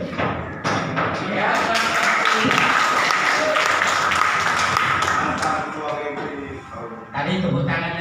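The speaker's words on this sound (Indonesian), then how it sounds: "Tadi tepuk tangannya belum meriah, berarti belum lancar saudara" Audience applause at a community gathering in Belawan, a burst of clapping mixed with thumps and scattered voices that runs for several seconds, dips briefly, then picks up again.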